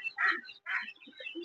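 Seventeen-day-old ducklings make soft, close peeps and quacky calls while feeding, short bursts separated by small pauses.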